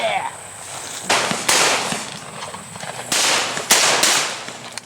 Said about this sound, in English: Oh, I shot under that one.